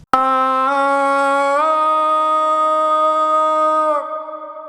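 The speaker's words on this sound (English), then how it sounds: "I actually have another reverb right here called Big Spacey Reverb" A sung vocal note with a big, spacious reverb sustains alone for about four seconds, stepping slightly in pitch and then ringing out into a soft reverb tail.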